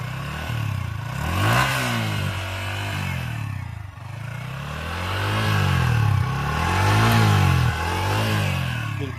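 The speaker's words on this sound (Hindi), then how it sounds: "एक बार आप सर थ्रोटल देना थोड़ा।" A Yamaha XSR 155 motorcycle engine idles with a throaty exhaust burble, then revs up and down in two swells of throttle, loud and close.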